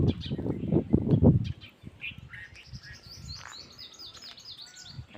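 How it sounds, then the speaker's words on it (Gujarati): Pigeons released into the open on a clear afternoon give off a low, close burst of cooing and fluttering, then scattered chirps and calls carry on at moderate volume. "આજે આપણે કબૂતર ખોલી નાખ્યા છે."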